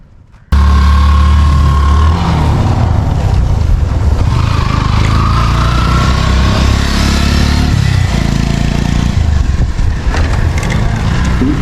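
Motorbikes idle and rev on a wide open beach flat near Chera Island off Saint Martin's, a loud, steady low engine rumble that starts abruptly and continues close by without pause.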